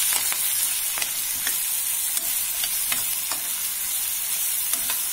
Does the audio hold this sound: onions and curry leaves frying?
yes